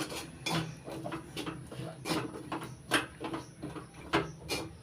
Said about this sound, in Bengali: নাড়াচাড়া করে মিশিয়ে নিচ্ছি।